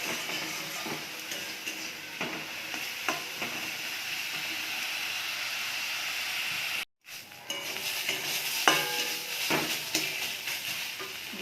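Beetroot ghonto stirred in a pan over low heat gives a soft, steady sizzle, broken by occasional light utensil clicks and scrapes and a brief drop to near silence midway.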